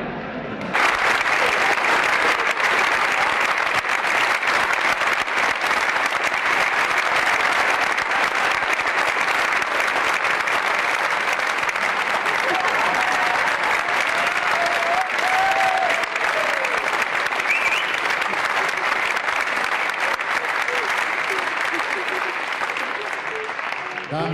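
A theatre audience applauds the cast of the Dutch stage show Toen was geluk heel gewoon at a Berkman centenary celebration, loud sustained clapping from a large crowd that begins abruptly and continues without letup for over twenty seconds.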